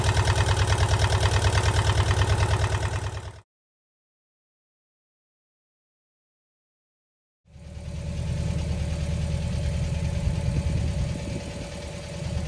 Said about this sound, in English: Engine's running, runs nice. Automatic choke works really well, ticks over well.